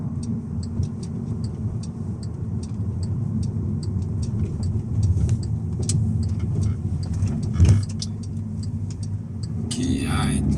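Stock VW Scirocco 2.0 TSI 210hp engine while driving, a steady low cabin drone with regular ticking clicks on top, a brief louder swell near the end, and someone talking quietly over it.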